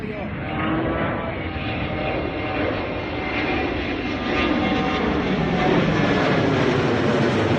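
A low-flying fixed-wing aircraft dropping fire retardant roars steadily and loudly throughout, a broad, dense engine rumble that swells slightly toward the end.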